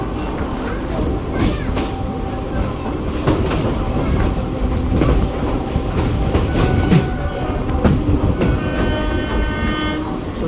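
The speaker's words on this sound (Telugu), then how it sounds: "చూసారు కదా, ఇది కంప్లీట్ రైల్వే స్టేషన్." Ambience from a busy railway platform at Chhatrapati Shivaji Maharaj Terminus in Mumbai: a steady crowd and train rumble, clicks and clatter, and tonal horn-like bursts near the end, with no clear speech.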